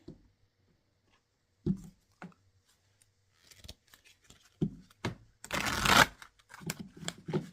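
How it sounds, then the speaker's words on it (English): Fairy oracle cards are handled and shuffled in bursts of riffling and sliding, near and fairly quiet, with silent gaps between and a dense rush of shuffling toward the end. "I'm going to pull a fairy card"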